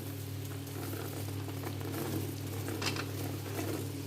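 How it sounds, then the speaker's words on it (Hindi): Almonds frying in a sizzling pan of ghee with coconut for suji halwa, giving a dense, continuous crackle with small pops and a low steady hum underneath, no voices. "अब मैं इसके अंदर बादाम शामिल कर रही हूँ।"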